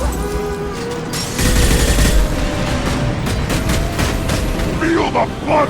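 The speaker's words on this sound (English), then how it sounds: "Stop firing at me, idiot!" Rapid gunfire in the video game Mass Effect 2, dense crackling bursts of shots that swell loud from about one and a half seconds and continue steadily to the end, with voices shouting over it.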